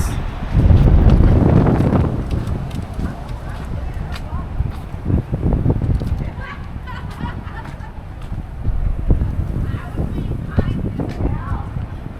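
Strong gusting wind buffets the microphone outdoors downtown in Prattville, Alabama, with a low roaring rumble, loudest early on and continuing steadily throughout.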